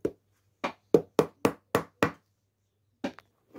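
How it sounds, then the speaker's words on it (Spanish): A hammer taps a new tip onto a pool cue: sharp, close knocks, one, then a quick run of five, a pause, and two more light taps, each crisp and alone in a quiet room. "Aquí hay que pegarle con el martillo."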